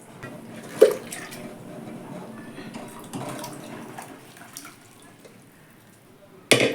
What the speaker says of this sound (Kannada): ನಮಗೆ ನೀರು ಎಷ್ಟು ಬೇಕು ಅಷ್ಟು ನೋಡ್ಕೊಂಡು ಹಾಕ್ಕೊಳ್ಳಿ